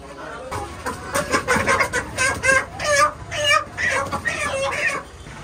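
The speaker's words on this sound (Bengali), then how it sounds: "এই যে মুরুগ বাছা চলছে, দেশি মুরুগ।" Desi chickens clucking at a market in a close, busy run of overlapping clucks and squawks, with people talking faintly underneath.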